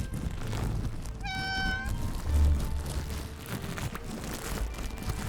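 A cat meows once in the Infinity Nikki video game, a short clear harmonic call rising over a steady ambient game background with no talking.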